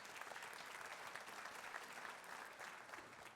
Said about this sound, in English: And yes, please clap.